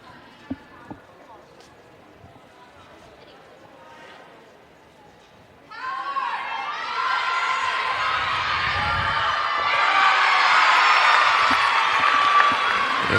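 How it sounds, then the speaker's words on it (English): Crowd and gymnastics teams at a college meet burst into applause and cheering after a gymnast's tumbling landing, a sudden loud swell that builds and holds, following quieter arena murmur. "And Anna Howard sticks the landing and gets an applause from all teams and the crowd."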